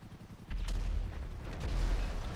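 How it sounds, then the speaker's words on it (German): Explosions and gunfire in the video game GTA Online, with a tank at a garden gate: a dense, continuous barrage of deep booms and crackling shots, loud and sustained after a brief quieter start. "Oh ja, diese Explosionsgeräusche."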